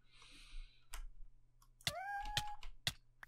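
A short synthetic Minecraft cat meow with a rising, wavering tone rings out among sharp clicks and ticks in a quiet game setting.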